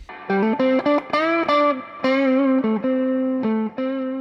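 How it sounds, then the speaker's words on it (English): An electric guitar plays a string of short notes and held tones drenched in reverb and some distortion, each note ringing out clearly, no talking. "I really like reverb, at least when I'm playing guitar."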